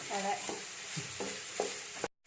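Sliced onions sautéing in oil for a dhaba-style chicken curry, a close, steady sizzle broken up by scraping stirs, then cutting off abruptly at the end.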